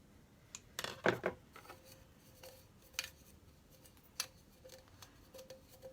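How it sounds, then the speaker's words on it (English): Scissors snip off the excess cord from a knot in a farmhouse-style craft, giving a short cluster of close, crisp cuts followed by a few lighter scattered clicks in a quiet room. "Let me cut this excess off."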